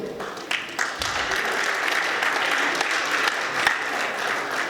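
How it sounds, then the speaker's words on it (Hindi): Steady audience applause at a live comedy show: dense, continuous clapping from a crowd that holds at an even level for several seconds. "इसके लिए एक बार ताली बजा दो"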